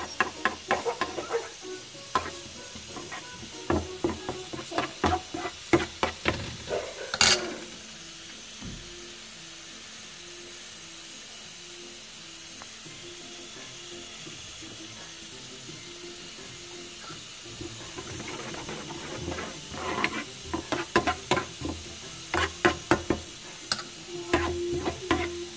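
Garlic, cumin seeds and curry leaves fry in oil for green chili pickle, a steady close sizzle with bursts of clinking stirring at the start and end and a calmer stretch in the middle.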